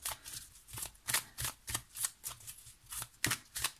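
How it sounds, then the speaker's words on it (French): A Broken Bi tarot deck being riffle shuffled, a rapid run of about a dozen crisp, fluttering card bursts in a quick, even rhythm, close and fairly quiet. "je sais pas si ça permet de mélanger à l'américaine"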